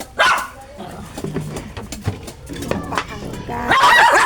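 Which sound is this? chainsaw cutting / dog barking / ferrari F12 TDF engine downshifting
dog barking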